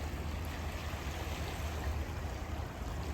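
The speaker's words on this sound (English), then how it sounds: "river flowing fast, there's so much erosion, exposing a lot of rocks" The fast-flowing Clinton River in Rochester Hills on a mild January day, a dense, steady rushing roar of water that stays loud and even throughout with no talk.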